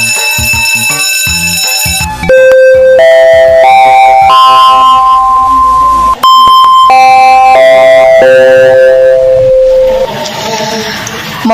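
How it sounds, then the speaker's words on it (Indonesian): Electronic school bell chime announcing the start of class plays a loud, sustained melody of steady sustained tones, stepping up and down in pitch, with a brief break partway through. "bel tanda masuk telah berbunyi"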